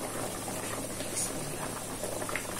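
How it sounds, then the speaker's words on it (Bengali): Pangas fish curry bubbling at a steady boil in a pot, a continuous soft, dense bubbling and simmering hiss heard close up with no talking. "তো তরকারি বলক এসে গেছে।"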